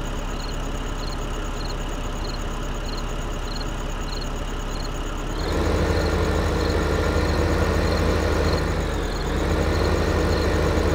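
A tractor engine in a video game idles steadily with a low, even rumble, then grows louder and rougher midway through, running alone with no talk.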